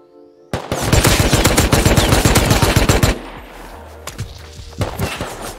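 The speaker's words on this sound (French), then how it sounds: "Je vais tirer qu'une fois, en fait." Rapid automatic gunfire from the survival video game Rust, a loud close burst of evenly spaced shots lasting a few seconds, then a quieter stretch with a few scattered thuds.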